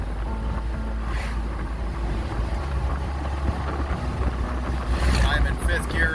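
Inside a vehicle on 35-inch tires in fifth gear at around 45 mph, a constant low engine and road drone is heard, with rushing wind and rumble that swells slightly toward the end.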